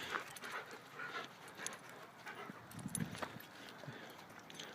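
Two dogs on a farm are heard faintly, with panting, snuffling and light pattering movement against low outdoor background noise and no clear talking.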